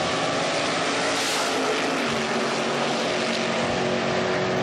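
A drag-racing Fiat Topolino and a chopped-top 1941 Willys roar at full revs on the strip at Beech Bend Raceway during a hot rod reunion, a loud, sustained engine blare with no voices.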